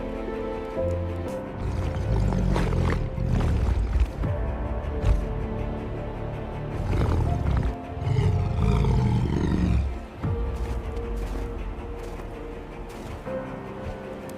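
A Siberian tiger in the winter taiga gives deep, rumbling roars in several long, loud bursts with short pauses between them, heard close and alone.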